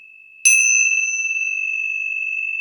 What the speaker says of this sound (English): Bells today.